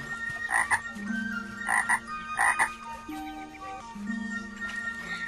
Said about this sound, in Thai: มีกบสาวตัวหนึ่ง อาศัยอยู่ในหนองน้ำพร้อมเพื่อนกบอีกมากมายหลายตัวอาศัยอยู่ร่วมกัน